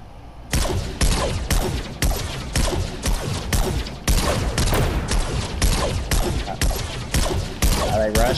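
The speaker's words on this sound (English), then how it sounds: "No, I'm shooting the Iron Man cannon, trying to make them run away" Rapid bursts of weapon fire from an Iron Man cannon in the Fortnite video game, a loud, steady barrage of repeated blasts with a voice talking faintly under the shots.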